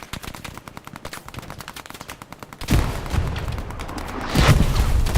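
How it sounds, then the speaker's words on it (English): In a Hell Let Loose match on the Carentan map, rapid small-arms fire rattles, then two heavy artillery blasts land, each followed by a loud rumbling roll of explosion noise. "Artillery doing the job."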